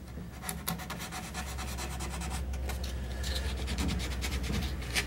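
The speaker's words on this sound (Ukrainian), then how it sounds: "шліфувати тими наждачками" Sandpaper rubbing over a wooden frame being prepared for a finish coat, a steady close rasping scrape with repeated strokes and no talking.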